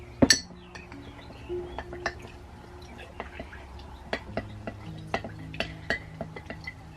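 Sourdough starter being stirred in a glass jar, with a sharp clink at the start followed by a series of light, irregular taps and scrapes against the glass, close but fairly quiet.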